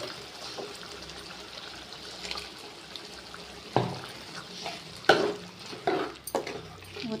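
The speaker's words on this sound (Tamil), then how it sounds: "இப்போ வந்து நான் அந்த அரைச்சதை ஊற்றுறேன் ஃப்ரெண்ட்ஸ்" Ground masala paste poured into simmering mutton curry and stirred, a low bubbling sizzle with several louder scraping stirs toward the end, close and without talk.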